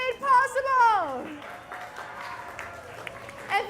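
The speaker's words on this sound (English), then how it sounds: "Please give a big hand to all of our wonderful TOs and volunteers who put in so much work today" An audience at a community event in the Guildhouse venue applauds the organizers and volunteers. A voice is speaking at the start, and a fainter spread of clapping continues under it and afterward.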